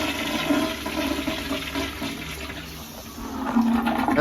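A hotel bathroom toilet flushes in a steady rushing wash of water that carries on for several seconds and swells again near the end, fairly close and with no voices.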